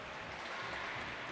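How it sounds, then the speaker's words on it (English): Crowd at a women's basketball game in Prague applauding, a dense steady wash of clapping filling the arena, brief and continuous with no voices standing out. "getting a round of applause from the crowd on both sides here in Prague"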